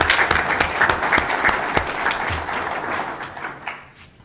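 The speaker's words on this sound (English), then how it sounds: "please join me in giving a round of applause to these students of the month." Audience at a school board meeting applauding students of the month, with brisk clapping from a modest crowd that thins and fades out toward the end.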